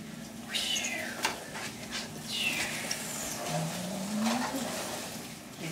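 A cat meows repeatedly, with several rising and falling calls close by, while being carried around a home on a makeshift ride toward the kitchen. Soft household noise sits beneath the calls.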